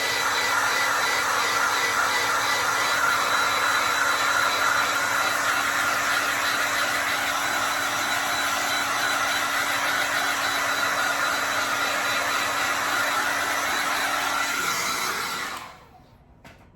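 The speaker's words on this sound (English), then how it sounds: "Take your hair dryer and just run it over a couple times over each strip" A hair dryer blows steadily at close range with a loud continuous whir, heating badge adhesive tape on a 2015 Chevy Silverado 1500 LT, then switches off near the end.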